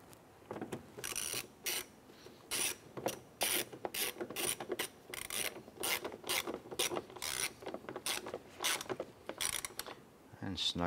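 A ratchet clicks rapidly and steadily while a screw is driven in to fit the left front mirror on a 2006–2013 Chevrolet Impala, with close, continuous pawl ticking in short strokes and no talk.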